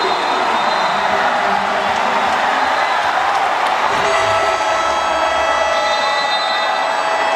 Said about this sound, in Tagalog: Raucous crowd right here at the Orion Sports Complex